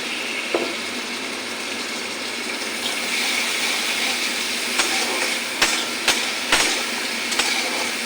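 Water is poured into a pot of garlic and ginger cooking for a lentil and fish-head dish, giving a steady hissing, gushing sizzle with a few sharp clinks and taps near the end, close by and without speech.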